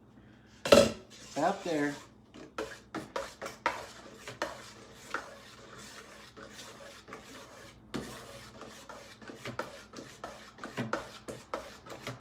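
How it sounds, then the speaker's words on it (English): Pine tar soap batter of beef tallow and olive oil stirred in a pot, with a metal utensil knocking and scraping the sides in a rapid, uneven run of close clanks. A voice speaks briefly near the start. "let's stir some more"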